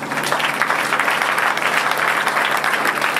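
An audience claps at a football intermediaries' event, a full, loud, sustained burst of applause from a crowd that stays even from start to finish with no speech on top.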